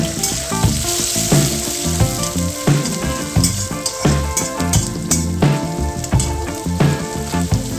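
One large chopped red onion fries in hot oil in a pan, giving a steady, crackling sizzle broken by stirring clatters, with soft background music underneath.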